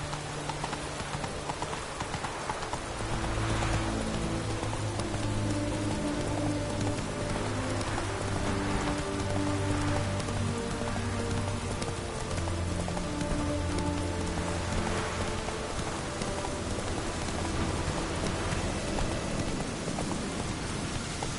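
Steady rain falls on surfaces throughout in the video game The Witcher 3, with a horse's hooves clip-clopping along underneath.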